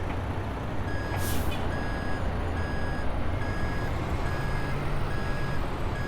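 A truck backs up in American Truck Simulator, its reversing beeper sounding a regular string of evenly spaced beeps over a loud, steady engine rumble, with a brief hiss of air brakes early on.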